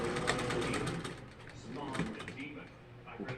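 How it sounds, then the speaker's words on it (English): A sewing machine runs in a steady mechanical whir as it stitches fabric for Victorian-style fans, with voices underneath the whole time. "I'm going to sew it on down"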